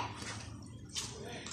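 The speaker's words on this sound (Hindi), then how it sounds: "आधा कप पानी डालेंगे और फिर इसको दम पे पकाएंगे" Half a cup of water is poured into a pot of cooking lentils for restaurant-style dal mash, a brief watery splash and slosh close by.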